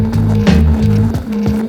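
Onewheel electric board making a steady, humming whine like a lightsaber, heard close with slight wavering and faint rhythmic thumps underneath for under two seconds.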